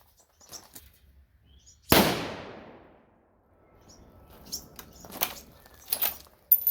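A single sharp .243 Winchester rifle shot cracks out loud and alone, its echo fading over about a second, followed by faint rustling and soft handling noises.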